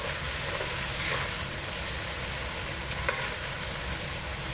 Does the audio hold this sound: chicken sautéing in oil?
yes